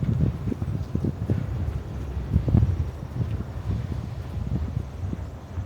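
Wind gusting outdoors past the microphone, a continuous low rumbling buffet with uneven surges and no talking.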